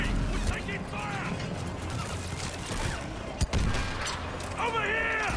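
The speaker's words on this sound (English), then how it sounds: "Hurry! We're taking fire!" Mass Effect 3 gunfire crackles in bursts beneath shouted dialogue and clanking mechanical noise, with one sharp loud shot near the middle of a busy combat scene.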